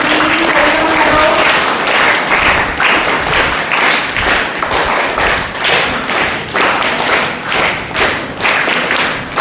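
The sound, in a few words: children clapping to welcome doctors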